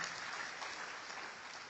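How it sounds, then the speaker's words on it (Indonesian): Sustained audience applause during a church sermon, a dense wash of many hands clapping evenly throughout, with no voices rising above it. "Berikan tepuk tangan yang meriah."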